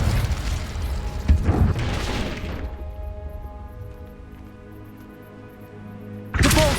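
Spell explosions from Incendio and Confringo casts in the Hogwarts video game, a loud booming burst with a sustained roar that fades into a quiet lingering tail before another sharp blast at the end.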